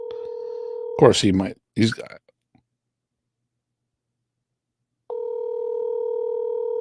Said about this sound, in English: there's the phone dialing.